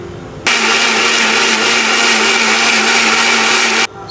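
A mixer grinder grinds masala of onion, tomato and coriander leaves, a loud steady whirring motor that starts abruptly, runs for about three seconds and cuts off.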